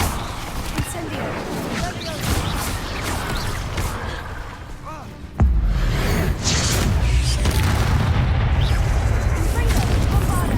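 Spell explosions from Confringo and Bombarda in Hogwarts Legacy, set in mines and tombs: dense booming blasts with crackling debris, a heavy low impact landing about halfway through and a sustained rumbling roar afterward, loud and continuous.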